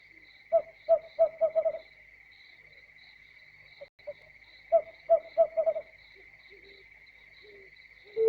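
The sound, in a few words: owls hooting and calling to each other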